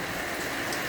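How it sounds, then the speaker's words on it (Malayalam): Heavy rain pours down in an even, dense hiss, close and continuous with no other sounds over it. "നല്ല മഴ."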